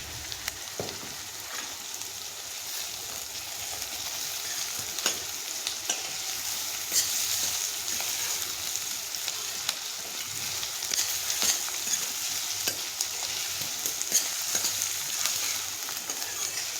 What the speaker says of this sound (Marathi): अब अपन इसको तड़का देने वाले हैं।